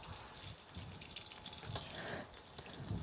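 Crab claws, the bigger claw pieces, frying in hot oil, giving a steady crackling sizzle with bursts of spattering that runs through the whole stretch at moderate level, with no voices.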